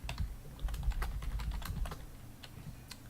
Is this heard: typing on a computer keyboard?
yes